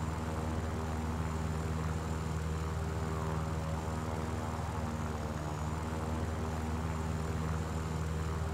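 Biplane engine droning steadily in flight in War Thunder, a loud continuous propeller hum with even tonal bands throughout, no gaps and no voices.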